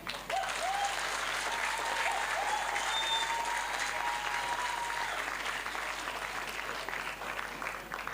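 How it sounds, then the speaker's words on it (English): An audience at the Woodford School Lusaka Grade 7 farewell luncheon claps in sustained, dense applause, steady from start to finish, with faint voices mixed in. "Please join me in giving a big round of applause to everyone who has helped make this day possible."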